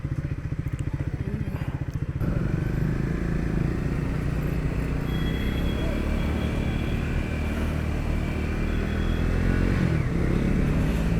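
Steady, loud engine drone of a BMW 1300 GS Adventure motorcycle out on the road. A deep pulsing idle in the first two seconds gives way to continuous riding rumble with wind noise and slight surges in revs.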